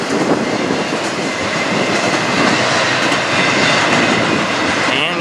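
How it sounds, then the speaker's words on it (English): Norfolk Southern train rolling past at Berea, Ohio, a loud, steady rumble of wagons close by, with a continuous broadband roar and faint clickety-clack, with no talk over it. "train everybody here has been waiting for"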